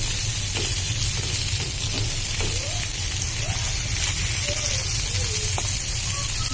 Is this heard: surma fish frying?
yes